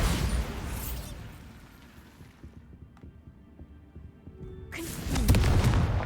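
Bombarda spell explosions in Hogwarts Legacy: a heavy booming blast opens, rumbles down to a quieter lull, then a second loud explosion erupts near the end.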